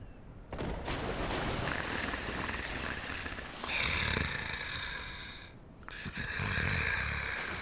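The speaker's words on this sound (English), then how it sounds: "Something snoring here." A creature snores in Dark Souls with long, rough, rumbling breaths, two swelling snores rising and falling in a slow rhythm, fairly loud and close with no talk over them.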